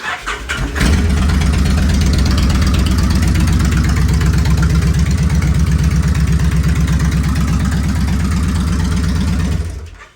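A cold 1997 Kawasaki Vulcan 1500 fuel-injected motorcycle cranks briefly, then catches and settles into a loud, close, steady throbbing idle with a slightly uneven pulse, cutting off abruptly near the end.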